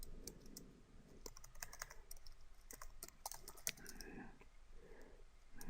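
Typing on a computer keyboard while filling in SEO service tags on a Fiverr gig page: bursts of quick key clicks in an uneven rhythm, close and fairly quiet, with no talking.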